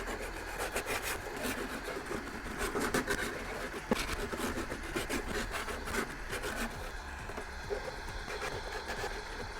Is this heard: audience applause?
no